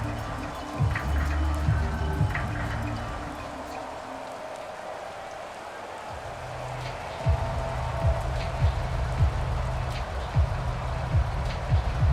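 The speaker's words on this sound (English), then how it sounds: "The rain set to continue as we are underway in the second half." Rain falls during an NFL game between the Las Vegas Raiders and Kansas City Chiefs: a steady broadband hiss of rainfall runs throughout, with a commentator talking over it.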